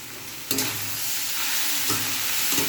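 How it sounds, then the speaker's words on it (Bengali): Pasta tossed with red soy sauce in a pan gives a steady frying sizzle with three distinct scraping stirs of the spatula, close and moderately loud, with no voices. "দিয়ে ভালো করে নাড়াচাড়া করে নিচ্ছে"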